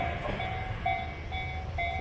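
A local metro train in Japan rumbles along steadily, with a low rolling drone and recurring tonal whines, at moderate loudness and with no talking.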